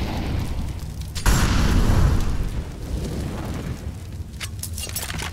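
An incendiary grenade bursts in the video game Counter-Strike, giving a sudden loud whoosh that swells into a roaring rush and then fades under ongoing game noise.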